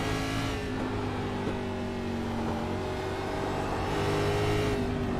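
A race car engine in a sim racing game drones steadily under a gentle throttle, holding a smooth, sustained mid-pitched hum with slight rises, close and continuous, with no talking.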